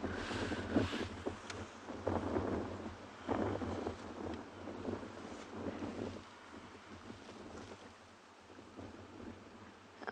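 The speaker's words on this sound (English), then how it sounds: "You can hear the wind is really, really picked up." Strong wind buffets the microphone on a live morning safari drive in South Africa, a low rumbling roar that surges and eases, loudest at first and quieter toward the end.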